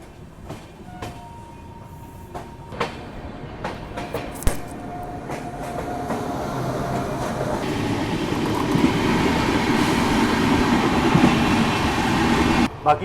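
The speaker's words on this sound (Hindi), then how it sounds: "इस तरफ से कोई तो ट्रेन आ रही है, और अपनी ट्रेन का भी डिपार्चर हो गया मोकामा से" The Patna-Howrah Express pulls out of Mokama, heard from onboard: scattered clanks and knocks give way to rising wheel rumble and rattling that grows louder and steadier over the second half.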